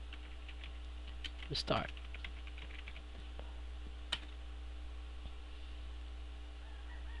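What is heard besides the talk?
typing on a computer keyboard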